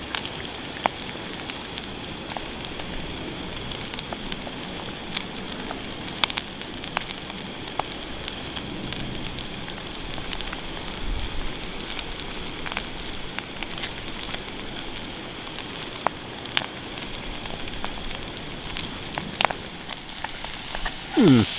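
Bacon sizzles in a pan on a spirit stove outdoors in the woods, a steady crackling fry with scattered pops and spits that runs without pause at close range.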